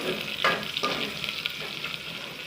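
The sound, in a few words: curry leaves and green chilies frying in a pan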